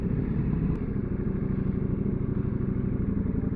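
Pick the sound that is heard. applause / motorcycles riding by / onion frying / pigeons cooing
motorcycles riding by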